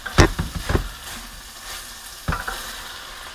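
Tomato paste and garlic fry in a pot for chili, giving a steady sizzle with a few sharp scraping stirs of a spoon near the start and again later.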